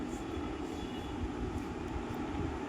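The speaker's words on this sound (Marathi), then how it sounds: "आमची ट्रेन आली बघा." A Mumbai local train pulls into Bhayandar station, a steady broadband rumble and rattle of rail cars holding at moderate level throughout, with no voices over it.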